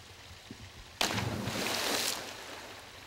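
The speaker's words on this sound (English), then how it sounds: "we've got a bit of a waterfall going back here" A small waterfall in a pond filtration system rushes in abruptly with a steady, close splashing wash that holds for about a second before easing off, with no voices.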